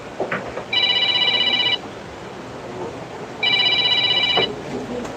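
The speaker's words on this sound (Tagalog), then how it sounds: "tumatawag sa cellphone ni Mark" Mark's cellphone ringing in two bursts of a trilling electronic ringtone, each about a second long, over busy background noise and a chattering crowd.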